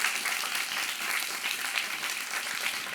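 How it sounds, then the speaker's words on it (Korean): An audience at a haegeum recital of restored Goryeo songs claps in a dense, continuous burst of applause that fills the room evenly for a few seconds. "한번 박수 부탁드립니다."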